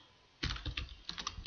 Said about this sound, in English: Promised I wouldn't be typing code again, and here I am just typing